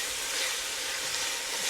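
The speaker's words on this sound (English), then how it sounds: "Stirring the onions and garlic, getting them nice and soft." Onions and garlic soften in a pot after beef has been browned for an Irish stew, giving a soft, even sizzle with a light hiss that runs on steadily throughout.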